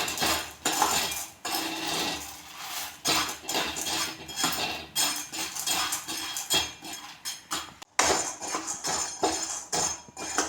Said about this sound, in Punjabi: ਕੜਛੀ ਦੇ ਨਾਲ ਇਹਨੂੰ ਹਿਲਾਉਂਦੇ ਰਵਾਂਗੇ